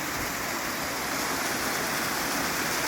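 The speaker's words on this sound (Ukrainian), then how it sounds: "побачили ще один, навіть не знаю, струмочок, чи це вже можна сказати гірська річка" A mountain stream rushes steadily nearby, a dense, continuous broadband roar of flowing water with no pauses and no voices.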